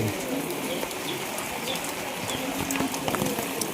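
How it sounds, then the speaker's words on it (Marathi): Steady, dense rain pours down in a constant hiss, with a few bird calls faintly audible in the background. "ते बघा भरपूर असा पाऊस पडतो"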